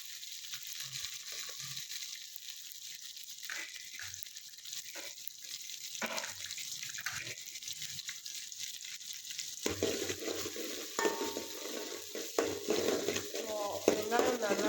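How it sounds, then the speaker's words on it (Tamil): Onions fry for a prawn curry, a steady hissing sizzle in the pan, with occasional scraping stirs that grow busier and louder toward the end. "வெங்காயம் நல்லா வதங்க வேண்டும்."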